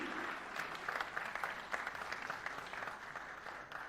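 An audience applauds at a tax payers' award ceremony, a dense, continuous clapping from a sizeable crowd with scattered sharper claps, steady in level and without talk.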